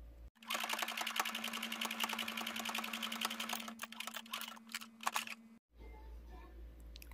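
Sewing machine stitching a fabric 3D face mask, a fast continuous rattling run for several seconds that slows and stops, then a quiet pause.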